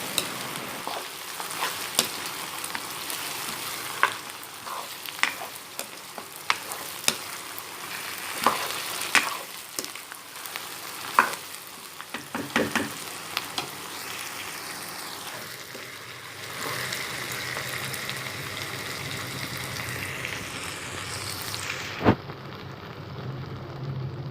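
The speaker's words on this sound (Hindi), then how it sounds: "यहाँ पे हमारा चिकन फ्राई हो रहा है" Chicken frying in a pan for chicken tikka with okra, an even, close sizzle punctuated by frequent sharp pops and clinks, easing into a softer, steadier hiss near the end.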